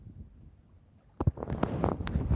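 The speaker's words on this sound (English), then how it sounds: "the wind's like swirling" Swirling wind buffets the microphone outdoors on a bass-fishing trip: a low, soft rumble at first, then sudden gusty thumps and rushing bursts that grow louder toward the end.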